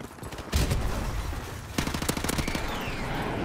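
Machine-gun fire in the Call of Duty Modern Warfare Remastered video game sounds as a short burst early on and then a longer rapid rattling volley. It is loud and close over dense game noise.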